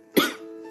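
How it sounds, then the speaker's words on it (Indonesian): A single short, close cough, loud and abrupt, from a man giving a late-evening lecture on taxation, with no talk around it. "Waduh, batuk ini."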